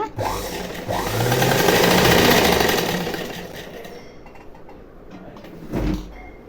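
A sewing machine hems falls onto a saree in fast, loud mechanical bursts that rise and fade over several seconds, then a short final run near the end, close to the machine.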